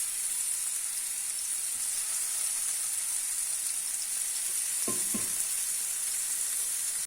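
Chicken pieces fry in olive oil in a pan, a steady close sizzle with a couple of brief knocks of movement partway through.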